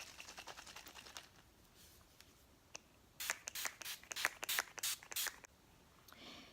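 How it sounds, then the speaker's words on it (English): A string of quick, sharp hissing bursts from a makeup setting spray bottle, faint at first, then a rapid series of louder mists in close succession. "I'm going to go in with my Urban Decay All Night setting spray"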